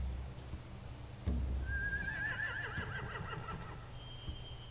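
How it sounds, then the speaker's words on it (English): A horse in The Walking Dead video game gives a single clear whinny, a wavering high neigh trailing off, after a soft thud and over quiet background noise. "Yeah, they have horses."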